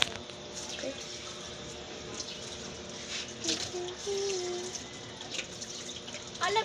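Tap water runs into a sink at low level, a steady faint splash with a few drips, while people chatter intermittently nearby.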